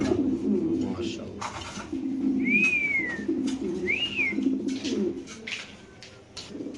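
Soft, low coos of satin and mundian pigeons for sale repeat in a steady murmur, with a couple of brief whistles overhead and someone talking over them.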